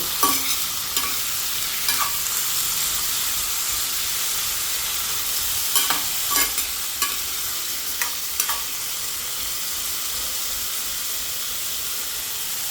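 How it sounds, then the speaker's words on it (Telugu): Potato pieces frying in oil on a low flame, a constant loud sizzle and hiss with scattered clicks and scrapes as a spatula stirs them in the pan. "సిమ్లో ఇలాగ మనం దీన్ని ఉంచుదాము, ఫ్రై అవుతుంది"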